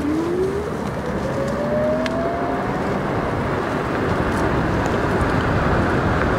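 Apollo Go electric scooter pulling away from a stop, its motor whine rising steadily in pitch over the first few seconds under a constant rush of wind.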